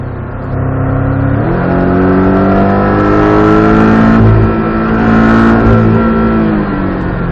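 A race car's engine holds a steady loud hum on light throttle, with smooth harmonic tones gliding slightly up and down and a brief rise in pitch early on, heard close and continuous without talk.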